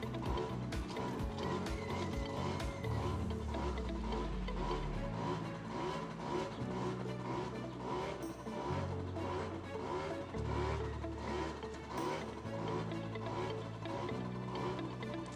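A motorcycle engine rises and falls over and over as the throttle is blipped and released between brake taps during a riding drill. The loud engine tone shifts pitch in steps and runs continuously throughout.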